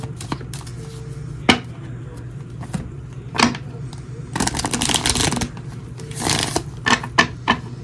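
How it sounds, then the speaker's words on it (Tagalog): Playing cards are shuffled for a tarot-style card reading, with several bursts of riffling and flapping separated by quiet pauses and small handling clicks, heard up close while someone talks quietly. "Balasahin lang po nating mabuti."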